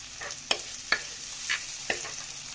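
Curry leaves added to sautéed onion and garlic in a clay pot for a village-style dry fish curry sizzle softly in hot oil. Four sharp crackles or spoon clicks come at roughly even intervals over a steady hiss.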